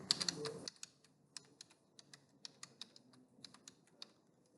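Someone types on a computer keyboard while configuring a Cisco server, with sharp, close key clicks at an irregular pace after a brief louder burst of noise at the start.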